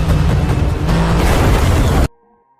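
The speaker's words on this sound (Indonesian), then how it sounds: "Akhirnya, Val berhasil menabrak mobil Radek." A car slams into a van in a movie chase, heard as a loud, dense crash and roar that holds for about two seconds before cutting sharply to near silence.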